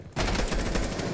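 Rapid automatic gunfire bursts in from near-silence in Rainbow Six Siege, a loud, dense string of evenly spaced shots continuing to the end.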